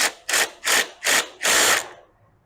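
Four quick ratcheting bursts followed by a longer one as a bolt is tightened on the end of a handguard, close and loud mechanical clicking that stops abruptly into silence.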